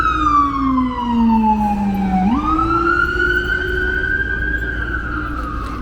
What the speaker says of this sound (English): we do hear sirens